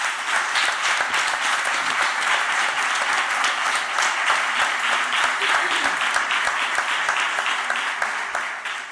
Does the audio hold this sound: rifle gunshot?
no